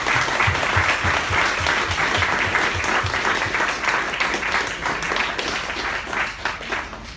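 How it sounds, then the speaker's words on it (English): A conference audience applauds the Chief Security Officer at the close of a talk, sustained close clapping with individual claps audible early on, slowly thinning toward the end. "another round of applause for Chief Security"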